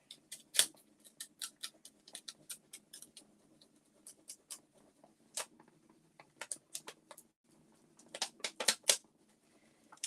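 Scissors snip through paper in quick, crisp bursts of small cuts with short pauses between them, close and fairly quiet, with no talking.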